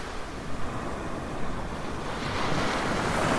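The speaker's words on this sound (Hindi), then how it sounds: "20 फीट ऊंची लहरें आने लगी, जैसे समुद्र उन्हें निगलना ही चाहता था।" A stormy sea with towering waves around a small boat surges in a continuous, dense roar, with strong wind rushing steadily throughout and building slightly toward the end.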